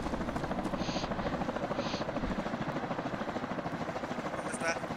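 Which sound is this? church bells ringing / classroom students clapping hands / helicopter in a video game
helicopter in a video game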